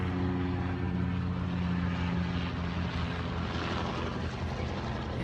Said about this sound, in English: I know it's noisy with the helicopter